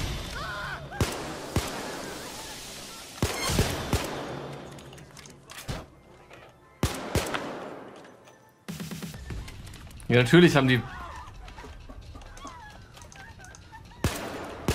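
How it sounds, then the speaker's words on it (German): Pistol shots in the Payday 2 video game during chaos in a department store, a series of sharp, loud cracks spaced irregularly with a brief rapid burst, while someone talks in German between them. "Könnte daran liegen, dass ich hier mit meiner Pistole rumschieße."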